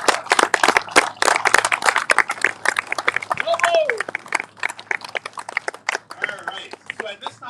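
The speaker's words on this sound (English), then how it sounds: "one big round of applause" Audience applause and clapping at a National Marine Sanctuary designation event, a dense round of clapping mixed with voices and cheers that stays fairly loud throughout.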